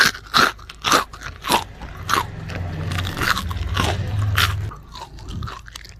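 Crunchy fried fasting bhaje fritters, crisp outside and soft inside, bitten close to the mic: several sharp, loud crunches in a quick run, then quieter chewing and crackling.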